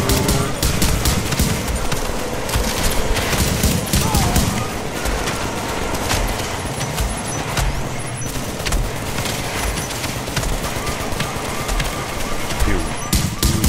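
Turret gunfire in The Division pours out in a dense, unbroken stream of rapid shots, loud and close, layered with other busy combat noise throughout.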